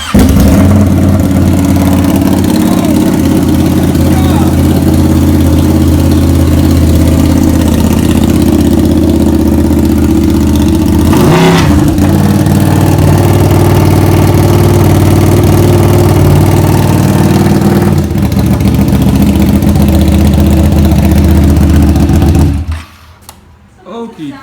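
A Ducati Panigale motorcycle engine runs with no exhaust fitted, giving a loud, steady, rough idle that holds for about twenty-two seconds and then cuts off abruptly, leaving near quiet.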